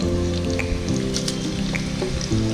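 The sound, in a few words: garlic ginger paste frying in a clay handi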